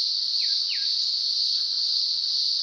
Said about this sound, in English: And all you can hear are cicadas and the birds.